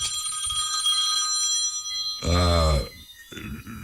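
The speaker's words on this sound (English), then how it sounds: "They wanna call my phone now, brethren." A telephone rings once with a loud, bright burst during a radio talk program, standing out briefly over background voices and studio sound.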